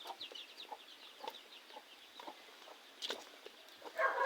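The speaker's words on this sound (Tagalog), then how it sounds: "Manok." Chickens cluck softly and repeatedly around a rural home's pens, faint and a little distant, with a brief louder squawk near the end.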